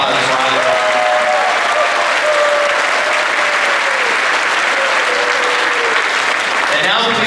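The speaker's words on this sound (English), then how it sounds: "Let's give him another round of applause." A high school graduation crowd at the Class of 2022 ceremony bursts into loud, sustained applause, a thick close wash of clapping with cheers and scattered voices mixed in, fading slightly at the end.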